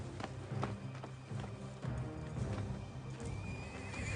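A black horse whinnies and gallops, its hoofbeats pounding in a steady rhythm under repeated neighs, fairly close with a busy background wash.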